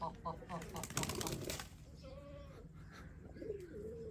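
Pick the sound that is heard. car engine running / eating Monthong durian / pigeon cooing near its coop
pigeon cooing near its coop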